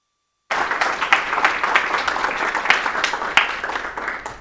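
Audience applause after a presentation, a steady dense clapping from a room full of people that starts abruptly after a moment of silence and continues evenly throughout.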